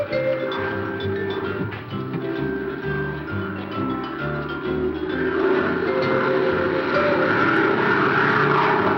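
Propeller airplane sound effect, a loud steady engine drone with a throbbing low rumble that builds and thickens partway through, filling the scene with no one speaking.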